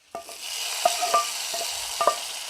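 Fried curry leaves and chillies are poured as a tempering into a Kerala curry of jackfruit seeds, dried prawns, mango and drumstick, giving a steady sizzle with a few stirring clinks and scrapes across a couple of seconds, no talking.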